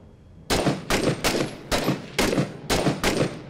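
Gunfire from the video game Six Days in Fallujah, a string of about eight sharp, loud shots in an uneven rhythm, each cracking out and briefly ringing, with no talk over them.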